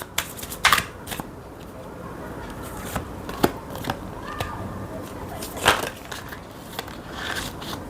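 Tarot cards shuffled close up in a reading, a continuous papery riffling and crackling with sharp snaps of the deck throughout, loud and near, with no speech over it.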